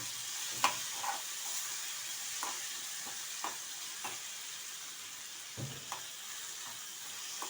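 Lotus seeds (phool makhana) frying in a pan on a stove, with a steady soft sizzle and scattered light clicks and pops of the seeds shifting, no voices.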